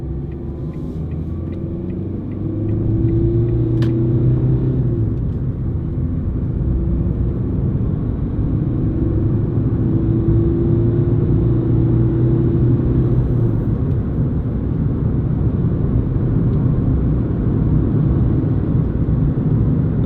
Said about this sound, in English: you do get a little bit more tyre noise coming through